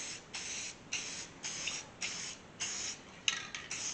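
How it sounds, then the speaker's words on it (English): Short repeated bursts of spray paint hissing onto the back side of a pedal car's windshield frame, about seven close, even puffs in a steady rhythm with brief pauses between them, no voices. "I'm going to spray the back side of the windshield frame and let it sit till it tacks up"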